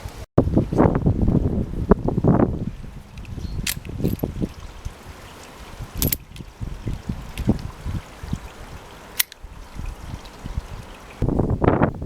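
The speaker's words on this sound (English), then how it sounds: "there's a lot of wind today, we're getting the tail end of the hurricane from America" Strong outdoor wind from the tail end of a hurricane buffets the microphone in loud, uneven gusts, with a few sharp clicks and thuds scattered through.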